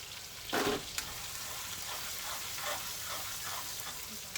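Onion frying in oil in a home kitchen crackles with a continuous close sizzle, broken near the start by a brief louder burst of stirring and spattering, with no clear talking.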